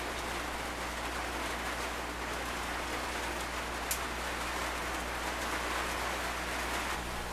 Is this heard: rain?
yes